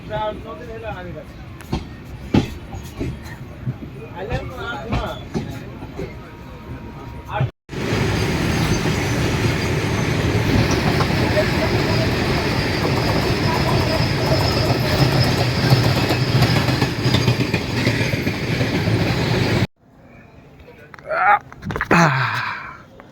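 Sairang Express passenger train pulling out of Jangipur Road station, a loud sustained rumble of wheels on rail dominating the middle stretch, with quieter carriage noise and movement before and after.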